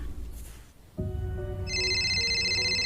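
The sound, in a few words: phone ringing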